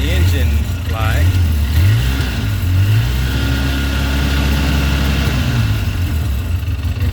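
A Polaris Ranger 800 crew utility vehicle engine with a random misfire idles and revs up and down close by, its loud running tone rising and falling with uneven stumbles, while someone talks over it.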